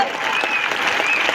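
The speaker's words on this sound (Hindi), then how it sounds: "एक बार जोरदार तालियां" Audience applause at a Safe Shop stage event, steady, close clapping that runs unbroken from start to finish.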